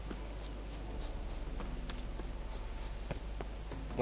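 Horse hooves gallop in The Witcher 3, a faint, steady rhythmic clip-clop beating under quiet game ambience.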